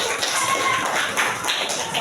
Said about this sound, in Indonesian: Silakan diberikan tepuk tangan buat kelompok 1.